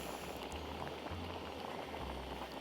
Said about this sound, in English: It's really boiling properly now.